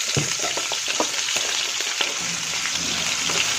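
Vegetables frying in a pan for chicken curry, a loud continuous sizzle with scattered crackles and pops, close and alone.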